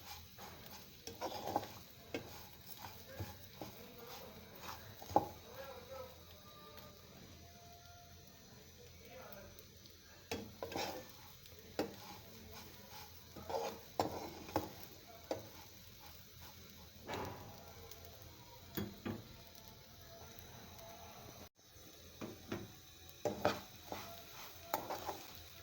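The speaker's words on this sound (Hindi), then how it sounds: "इसे बिल्कुल स्लो फ्लेम पर हम फ्राई करेंगे 6 से 7 मिनट तक के लिए" Bread crumbs with milk powder and sugar frying and being stirred in a pan over a low flame, with soft scraping strokes and faint sizzle, quiet and close, with a voice talking at times.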